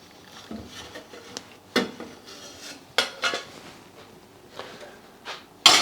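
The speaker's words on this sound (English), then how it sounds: "Give it another good stir to make sure that nothing's sticking to the bottom of your saucepan" Metal spoon stirring and scraping in a saucepan of yellow split pea soup, sharp clanks and knocks at irregular intervals with soft scraping between, close by and with no talk.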